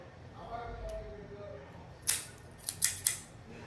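A cigar V-cutter snaps through a cigar in a cigar lounge, a few crisp close clicks coming in quick succession after a stretch of quiet room tone, with a voice speaking before them.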